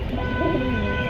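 A Pakistani high-flyer pigeon coos briefly and softly at close range, a short low burble heard on its own.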